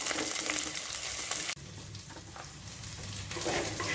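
Ivy gourd frying in a pan for a Tamil sesame gravy, a soft continuous sizzle with a brief break partway through, fairly quiet and with no talk.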